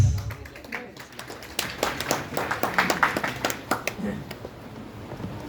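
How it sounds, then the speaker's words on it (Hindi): Audience at a training workshop seminar breaks into applause, a scattered patter of claps building into quicker, denser clapping in a mid-sized room, with a voice briefly audible early on. "ताली बजाओ, घर को जाओ"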